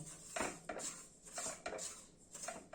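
Semolina dry-roasts in a dry kadai over a low flame while a utensil scrapes and stirs it in a few soft, irregular strokes against the metal, faint and without any talk.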